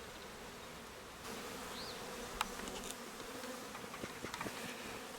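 Honey bees buzz at a beehive during a June hive inspection, a soft continuous hum with individual bees droning close by now and then, quiet and outdoors with no talking.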